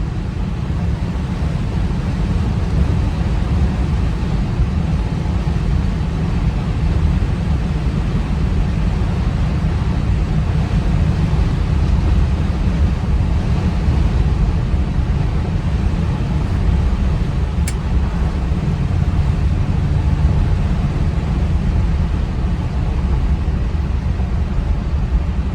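A 1965 Buick Wildcat Deluxe convertible with a 401 Nailhead V8 and Turbo 400 transmission cruising along, with a steady low engine and road rumble and wind noise running unbroken throughout.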